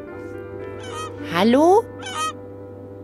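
Odd bird-like squeaks from a bed in the point-and-click game The Whispered World: a few short honking squeals, one rising and louder in the middle, while someone speaks briefly over a low hum.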